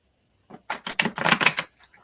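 A deck of tarot cards is shuffled in a quick burst of crisp riffling flutters, close and moderately quiet, lasting about a second.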